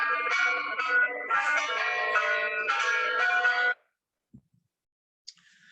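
Church bells in a Bedfordshire belfry ring in rapid, overlapping peals for nearly four seconds, loud and close, then stop abruptly, leaving near silence broken by a couple of faint knocks.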